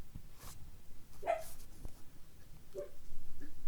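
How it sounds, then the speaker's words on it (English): An indoor dog barks toward the front door at a passing truck, a few short, muffled woofs and yips spread across the moment, fairly faint against a steady background hum. "My dog thinks there's someone at the door."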